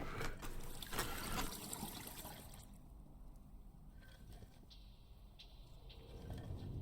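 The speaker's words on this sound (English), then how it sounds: "Fill this with water." Water trickles and splashes steadily as a bucket fills in a video game, a soft continuous pouring sound that is quiet and alone, with slight shifts in its texture.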